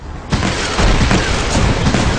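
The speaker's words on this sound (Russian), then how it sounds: "особенно нравились нам взрывающиеся головы" Exploding heads in the shooter game Merchants of Brooklyn: a sudden loud booming burst that starts abruptly, followed by rumbling blasts and crackling debris lasting about two seconds.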